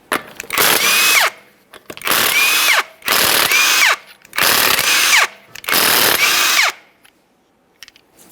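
A power tool spins off five 19mm lug nuts from a Ford Fusion front wheel, five loud close whirring bursts of about a second each separated by short pauses, then quiet.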